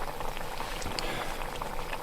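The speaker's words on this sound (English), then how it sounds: "Got a bunch frying up here in its own fat." Bear meat frying in its own fat, a steady dense sizzle and crackle running close and unbroken throughout, with no voices over it.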